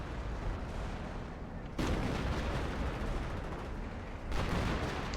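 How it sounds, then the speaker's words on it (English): Artillery barrage in the World War II strategy game Company of Heroes on the Angoville map, heard as dense rumbling blasts and crackling gunfire, with sharp louder bursts of impacts at about two points. "Throwing this artillery down."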